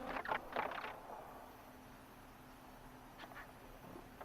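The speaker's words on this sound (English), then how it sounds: "It's probably birds, isn't it?" Birds call in the game Horizon Zero Dawn: quacking, duck-like bursts, faint and a little distant, in two short clusters separated by a quiet stretch of low ambient hum.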